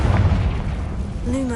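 A Confringo blasting spell explodes in the Hogwarts Legacy video game: a short, deep booming blast with a rumbling tail, and a voice rises briefly at the very end.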